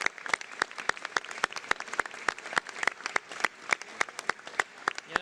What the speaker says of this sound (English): a big round of applause to you and the 350 workers